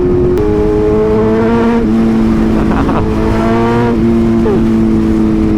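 A steady, loud BMW M1000RR motorcycle engine drones at low revs in fifth gear, with a smooth throaty tone from a loud aftermarket exhaust that rises slightly as the bike pulls.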